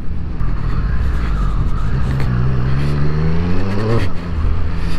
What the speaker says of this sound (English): That sounds absolutely gorgeous, doesn't it? The triple engine.